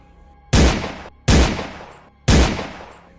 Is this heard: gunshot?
yes